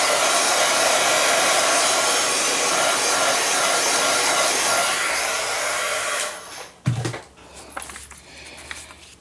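A heat dryer blows steadily and loudly over a Gelli print for about six seconds, then shuts off, followed by a few brief clatters and handling noises.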